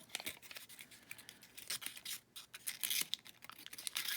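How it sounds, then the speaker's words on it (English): Scissors snip paper close up while the centre is trimmed out of a small Christmas paper rosette embellishment, a steady run of crisp, rustling cuts with no voice. "And then we're just going to cut the center out."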